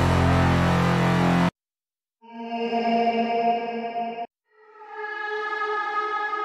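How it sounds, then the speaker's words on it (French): Vocal-like synth chords from a patch in the Serum software synthesizer: a bright full chord cuts off, then two sustained, airy, voice-like chords swell in after short silences, with no talking. "c'est un son de voix, pas vraiment de synthé"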